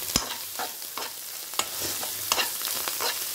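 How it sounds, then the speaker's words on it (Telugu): Egg curry frying in a pan with coriander leaves mixed in, a spoon scraping and stirring in short repeated strokes over a steady sizzle, close and alone. "ఇప్పుడు మొత్తం కలుపుకున్నామంటే ఒక 2 నిమిషాలు వేయించుకోండి"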